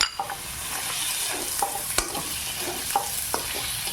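Peeled boiled potatoes are stirred into onions and spice masala frying in a pan for ghugni. A constant sizzle plays under repeated close scrapes and knocks of the spoon.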